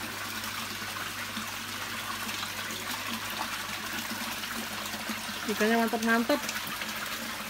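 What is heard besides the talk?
running water at a koi fish farm pond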